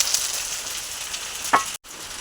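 Chopped onion and green chilli fry in hot oil in a kadai, giving a steady, close sizzling hiss that cuts out briefly near the end.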